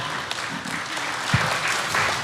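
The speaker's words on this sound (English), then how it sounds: "You got the first round of applause for that." Brief patter of clapping, light and somewhat distant, a short burst of applause with a faint voice underneath.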